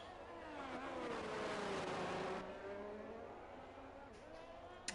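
An Alfa Romeo race car in a sim racing game sustains a loud, steady engine drone through a lap, its pitch rising and falling with the gears before easing slightly near the end.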